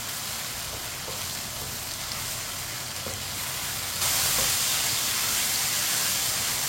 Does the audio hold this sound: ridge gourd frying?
yes